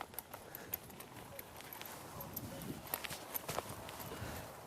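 A ridden horse's hooves clip-clop as it is turned, soft uneven footfalls on the ground with quiet jingling and shuffling, moderately close and steady throughout.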